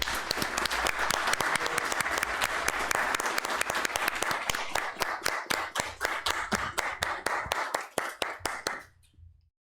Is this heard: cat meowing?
no